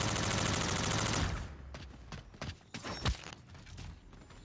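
Rapid, dense gunfire at a zombie in the video game Call of Duty: Infinite Warfare. A loud sustained burst gives way to scattered sharper shots and impacts.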